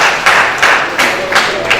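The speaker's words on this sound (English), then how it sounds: "Can we give our president another round of applause," A staff training audience claps for the president in a few loud bursts of hand claps, spaced about every third of a second and close by.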